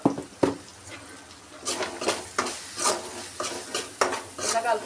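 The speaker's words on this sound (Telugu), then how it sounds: "ఇలా కలుపుకోవాలి, బాగా కలుపుకుంటే దానికి బాగుంటుంది" Chicken curry with rice being stirred in a pan, spoon scraping in repeated strokes about every half second over a faint sizzle, close and fairly loud with no talking.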